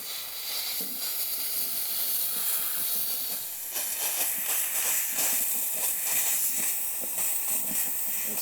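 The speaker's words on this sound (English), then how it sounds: "Push this button down, and it'll release the steam." A BISSELL Steam Shot OmniReach portable steam cleaner releases a continuous, close, bright hiss of steam for several seconds, with brief fluttering spurts and a slight change in tone partway through.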